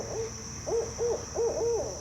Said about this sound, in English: And even at night, I guess I got an owl rudely interrupting me.